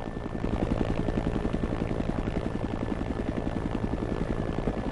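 A video game helicopter's rotor thumps steadily in a fast, even rhythm, loud and continuous with engine drone underneath.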